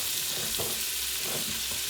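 Butter melts in a pot for broccoli cheddar soup, giving a continuous soft sizzle up close with a few faint stirring knocks, no talking.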